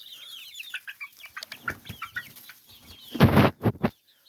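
Chickens in a small backyard flock cluck and chirp in a close series of short calls, building to a louder burst of squawks near the end.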